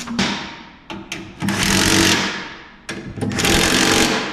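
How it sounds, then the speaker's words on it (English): Bolting a filter cover back onto a Kubota KX080-4 excavator during maintenance: bursts of a power tool running in several close, loud stretches with short gaps between them, and no talking. "let me just go ahead and bolt this back on"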